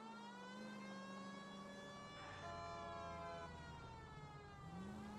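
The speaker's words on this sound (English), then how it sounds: "I feel more comfortable with the siren on" A police car siren wails steadily inside the LA Noire video game, a rising and falling tone that stays close and even with engine rumble beneath.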